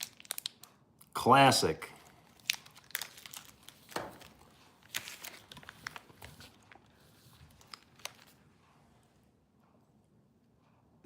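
Doritos chips and a crinkly snack bag handled while eating: a loud rustle of the bag, then scattered crunches and crinkles trailing off into quiet, with a brief voice in between.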